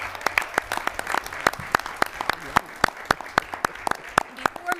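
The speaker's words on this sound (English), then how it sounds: "let's give them a huge round of applause" A crowd at a school board meeting applauding, dense clapping with sharp individual claps standing out, steady and fairly close, with no talking over it.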